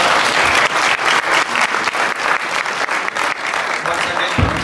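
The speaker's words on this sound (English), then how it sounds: "A big round of applause." Sustained applause at the Pacquiao–Bradley II post-fight press conference, a dense, even wash of clapping from a crowd of media and fans that carries through the whole stretch.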